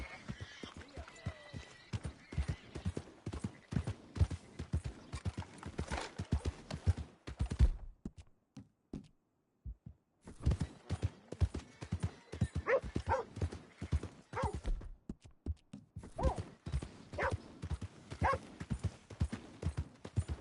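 Horse hooves clip-clop in Red Dead Redemption 2, a brisk rhythmic stream of hoofbeats with a short pause midway and again near the end, plus a brief whinny-like sound near the start.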